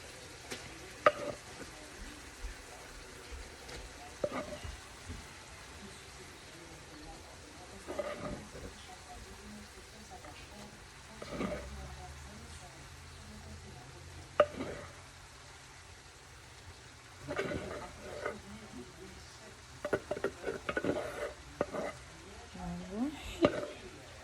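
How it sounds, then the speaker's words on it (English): Ground beef fries in a pot with a soft, continuous sizzle, interrupted by occasional scraping stirs of a utensil against the pot, while a person talks now and then. "I'm gonna put the ground beef in the pot and mix it all together"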